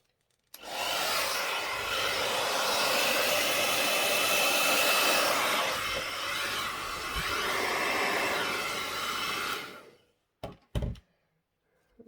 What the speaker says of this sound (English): I'm just going to blow the base over the paint